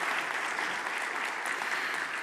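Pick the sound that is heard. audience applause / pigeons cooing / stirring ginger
audience applause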